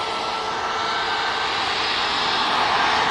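A Ryanair Boeing 737 MAX 8 on its takeoff roll at Manchester Airport delivers a loud, continuous jet roar with a bright hissing edge, holding steady and close for a few seconds with no voices.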